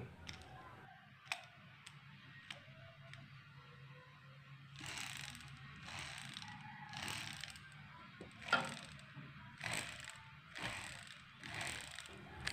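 Homemade propeller toy made from a pen, spun on thread, first a few sparse sharp clicks, then a run of rhythmic whirring and rattling bursts repeating about once a second, close and fairly quiet, no talk.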